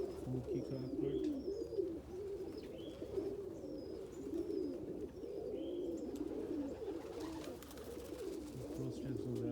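Homing pigeons cooing in a loft during a snowstorm, several birds giving low rolling coos with faint chirps over a steady background.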